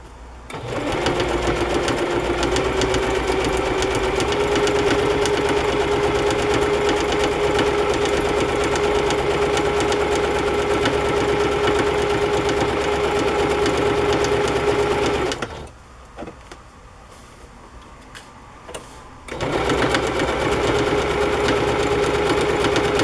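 A sewing machine stitches a padded fabric cover made from tablecloth fabric, running fast and steady for about fifteen seconds, pausing briefly with small clicks, then starting again close up.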